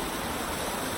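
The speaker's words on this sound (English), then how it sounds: "We just passed a waterfall, and here's another one behind me." Small waterfall on the Etiwanda Falls hiking trail in Rancho Cucamonga, a steady broadband rush of falling water close by, continuous and even for the whole second with no voices.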